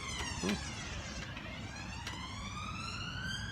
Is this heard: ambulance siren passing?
yes